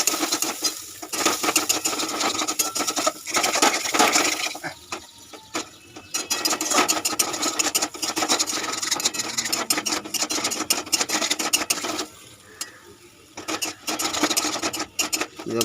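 Shrimp-stuffed pointed gourd fried and stirred in a pan, a continuous loud rasping scrape of a spatula with short pauses, no talking.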